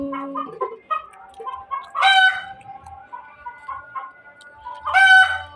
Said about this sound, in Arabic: انا مربيه الفراخ دي لمودي